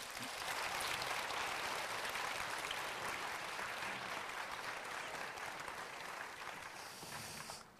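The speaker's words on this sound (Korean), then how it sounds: "박수로 맞이하겠습니다" An audience at a school talk show in Sokcho claps steadily to welcome the guests on stage. The applause is dense and sustained, fairly even throughout, and thins slightly at the end.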